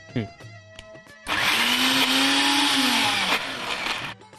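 A mixer grinder whirs loudly for about three seconds, a steady high-pitched grinding roar that starts abruptly after a few clicks and stops just as suddenly.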